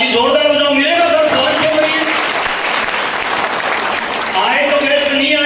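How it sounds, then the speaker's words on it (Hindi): An audience applauds after a motivational speech, dense clapping throughout with a voice speaking over it at the start and end. "ताली जोरदार बजाओ, मिलेगा सर?"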